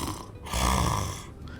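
A person imitates snoring through an open mouth, producing one long, loud, rasping inhaled snore that swells and fades, close and alone without words.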